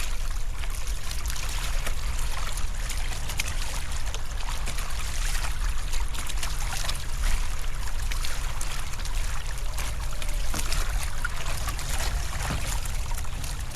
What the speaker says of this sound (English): I'm paddling hard just because I want to get across.